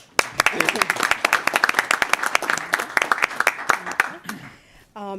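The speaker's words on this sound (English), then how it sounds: "Okay, but we'll clap for him." Applause from a township Board of Supervisors meeting audience honoring a retiring volunteer, a brief burst of scattered, uneven hand claps from a modest crowd in a meeting room, with faint voices beneath, fading out after about five seconds.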